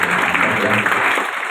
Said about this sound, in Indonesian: Kita kasih tepuk tangan teman-teman.